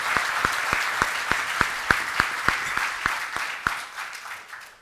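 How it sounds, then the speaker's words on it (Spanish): Audience applauding an economist at an investment expo in Lima, a steady dense clatter of many hands with sharper individual claps standing out, fading slightly toward the end. "Un aplauso para Roberto."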